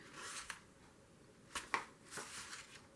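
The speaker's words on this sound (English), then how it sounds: "I think I'm going to cut it to size for this page" Scissors cutting a paper picture to size for a junk journal page, a few quiet, close, sharp snips spaced irregularly with soft paper rustle between.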